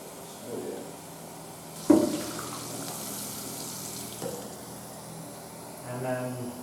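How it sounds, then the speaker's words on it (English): Sample bottle rinsed under a sink tap, a soft running-water wash with a sharper splash near the start and a brief swell of flow toward the end, under faint voice. "you want to rinse the bottle a couple times"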